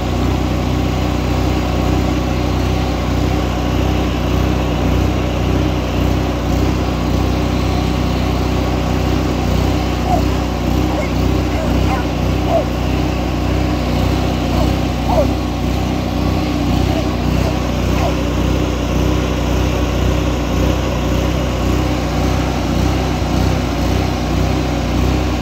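John Deere 345 lawn tractor engine running steadily at raised throttle, a constant loud, buzzy mechanical drone with even rumble throughout, close by.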